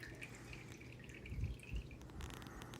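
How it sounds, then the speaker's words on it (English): Water dripping off a soaked sheet of cotton-based paper lifted from a pan, a steady patter of faint drips with a few louder drops near the middle, alone and close. "let most of the water drip off of it"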